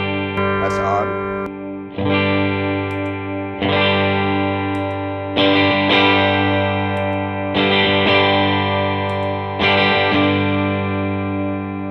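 Electric guitar chords played through an Electro-Harmonix Soul Food overdrive pedal ring out six times in a steady rhythm, each strum sustaining and decaying before the next, loud and close.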